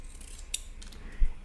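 Scissors snip through a paper rectangle, cutting it in half with a quick crisp shearing crunch and a soft thump from the blades closing, close and brief in a quiet room.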